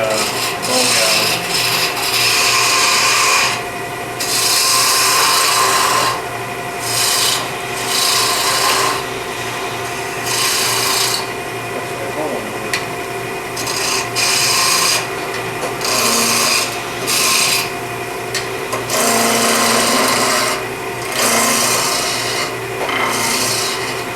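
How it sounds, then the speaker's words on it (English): Bone gouge cutting a spinning wooden ring blank on a lathe while turning a bracelet, a steady close rasping scrape broken by short pauses as the tool lifts off and bites again, with a low motor hum underneath. "I'm just using my bone gouge."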